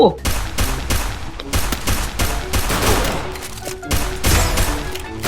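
Rapid gunfire in the video game Free Fire, dense bursts of automatic shots and crackling volleys, with a player shouting over the shooting.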